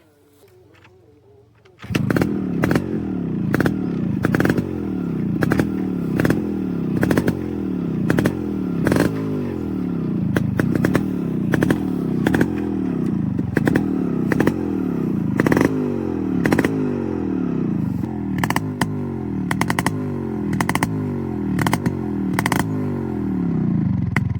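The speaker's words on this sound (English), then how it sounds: "let's get straight in and make you hear the sound of the bike" A Yamaha RX 135 motorcycle starts up, and its two-stroke engine and exhaust run loud and close with a rapid, rattly pulse, blipping the throttle repeatedly in revving surges over about twenty seconds.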